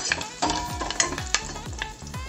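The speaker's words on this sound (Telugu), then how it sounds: "కరివేపాకు వేసాం కదండి ఇలా మనం" Curry leaves tempering in hot oil for a buttermilk rasam, loud close sizzling with repeated scraping stirs of a spoon in the pan at a regular rhythm, with no speech.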